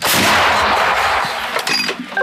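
A single heavy blast from a British L119 howitzer booms loudly, followed by a rumbling decay and a faint metallic ring, with no voices.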